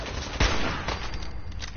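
Gunfire in the Fallout 4 video game, a sharp close shot followed by a few quieter rapid reports over a steady noisy background.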